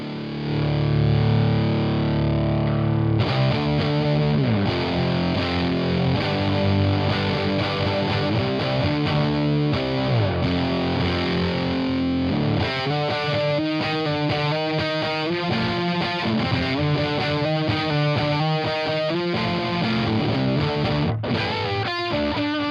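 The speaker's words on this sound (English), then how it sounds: "And then we have the Earthquaker Devices Spires, which is a dual fuzz." Electric guitar played through the red channel of an EarthQuaker Devices Spires dual fuzz pedal, thick saturated distorted chords ringing loud and continuous, with changes in the riff and no talking.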